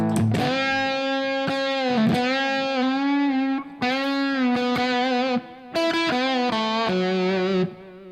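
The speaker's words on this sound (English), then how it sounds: "So I'm going to just kick on the fuzz." An electric guitar played through a silicon fuzz pedal rings out in loud, sustained, distorted notes, several held tones separated by brief gaps, alone with no talking.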